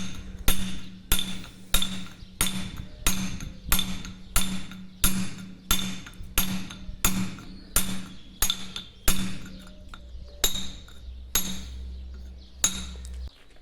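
A hammer strikes a chisel hard while carving stone, sounding as a steady run of about twenty sharp, ringing metallic blows roughly every half second, loud and close with no talk.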